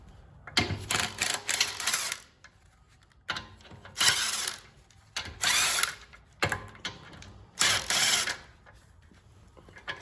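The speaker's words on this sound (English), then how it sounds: "So I'm gonna go ahead and take these 5 lug nuts off the rear" Lug nuts come off the rear wheel of a VW Jetta in four loud mechanical bursts of rapid tool rattling, each separated by short quiet pauses.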